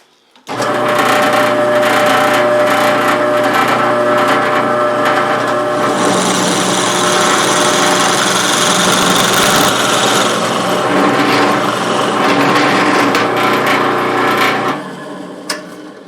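Power tool cutting a dado through a wooden block to make a mount for an air valve in a shop, one long loud steady whine with grinding texture that starts abruptly and runs down at the end.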